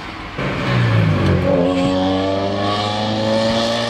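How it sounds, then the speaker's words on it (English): A car engine revs up loudly, its pitch climbing in steady harmonic sweeps and then holding at a high, droning whine, close and unbroken. "I hate cars that make noise like that"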